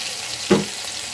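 Tomatoes hitting hot oil in a pan of black bean amti, one sharp sizzling burst that quickly fades into a low, steady hiss.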